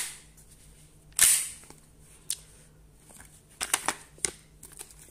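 Slide of a Tokyo Marui Hi-capa 5.1 airsoft pistol being racked, one sharp loud metallic snap followed by a few lighter clicks and clacks, close up with a faint hum and no talking.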